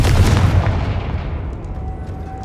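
Confringo fire spell explosion in Hogwarts Legacy, a loud booming blast that rolls off into a long fading rumble, with no talk over it.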